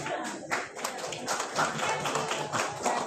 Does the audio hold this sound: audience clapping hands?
yes